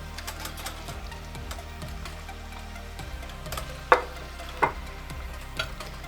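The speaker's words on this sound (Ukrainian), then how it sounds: "Додаємо м'ясо." Chicken meat goes into a pan already sizzling with fried onion, butter and garlic for a chicken curry: steady frying hiss with a few sharp clacks of a utensil near the end.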